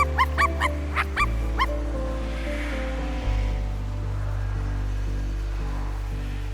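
Dog barking in the video game I Am Dead, a run of several sharp yips and barks in the first two seconds, then fading into a steady low drone and soft ocean-like wash with no further barks.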